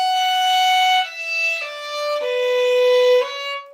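A solo violin plays one measure of the aria Un Bel Dì Vedremo from Madama Butterfly, a clear legato line of several sustained notes stepping downward, close and fairly loud, with no talking.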